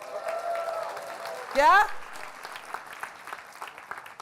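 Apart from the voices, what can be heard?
audience cheering and clapping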